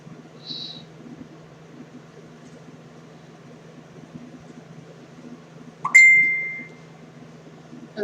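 A mobile phone rings with one loud, bright electronic tone lasting under a second, cutting abruptly over a steady low hum in a quiet room.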